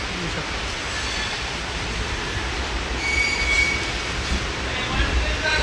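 A train moves near Pune Junction with a steady loud rumble of wheels on track and a faint high squeal.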